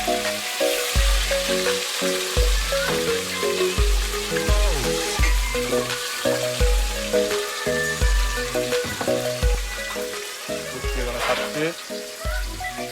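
Fish sizzles as it fries in a pan in a home kitchen, a steady, close crackle lasting throughout. Loud background music plays over it, with a few faint voices.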